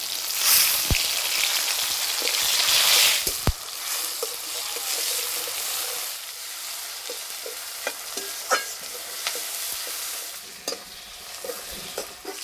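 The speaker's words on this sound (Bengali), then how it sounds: "পেঁয়াজ আর টমেটো ভালো করে ভেজে নিয়েছি" Onion and tomato sizzle and fry steadily in hot oil with five-spice seeds and bay leaf, a loud dense crackle at first that settles into softer frying, punctuated by sharp scrapes and clicks of stirring.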